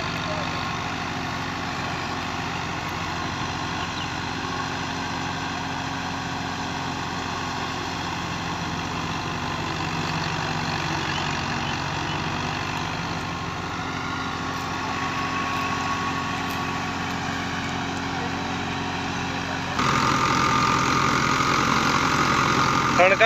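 A FIAT 85 tractor drives a thresher machine with a continuous, even engine drone and mechanical hum that grows slightly louder near the end, with no break in the sound.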